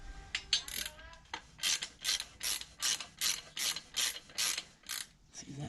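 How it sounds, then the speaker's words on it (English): A ratchet wrench loosens an exhaust bolt on a 2008 Harley-Davidson Sportster 883C with Vance and Hines short shots, making a run of about a dozen rapid, evenly spaced clicking strokes up close, with no talking. "that one we can get with the ratchet"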